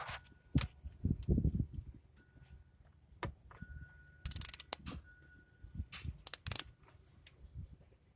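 A ratchet tightens a spark plug on a 2011 Toyota Tacoma, giving short, sparse bursts of close clicking separated by quiet pauses, with a few small metallic taps.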